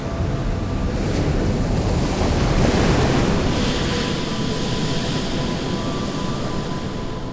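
Ocean waves and relentless wind on the Elephant Island shore make a loud, continuous roar of surf and gusting air, with no voices.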